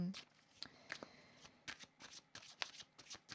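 A deck of tarot cards is shuffled up close, with repeated crisp riffling flicks and soft slaps in an irregular rhythm, accompanied by faint background talk.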